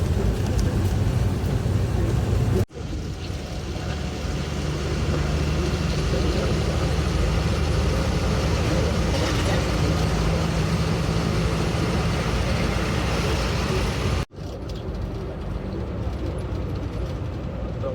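A vehicle engine drones steadily through a drive in Nagpur, Maharashtra, a loud continuous low rumble with road noise and two brief dropouts.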